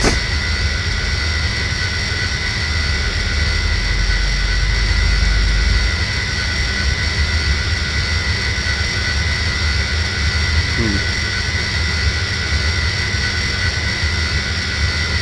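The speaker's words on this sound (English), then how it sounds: "Let's start up the engines." Avro Vulcan jet engines starting up in a game simulation roar and whine steadily at high volume, a continuous dense turbine drone with no talking.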